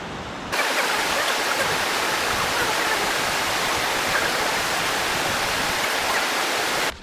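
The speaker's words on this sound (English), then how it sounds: "Look at that waterfall." Waterfall in the Drakensberg mountains, a steady full-band roar of falling water that holds loud and constant from just after the start to the end, with no voices.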